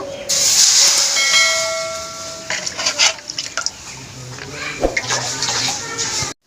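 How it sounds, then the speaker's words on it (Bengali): Water poured into a hot kadai over a village wood stove, a loud burst of hissing steam that settles into bubbling and spitting, then dies away. "আমি এবার কড়াইতে জল দেব।"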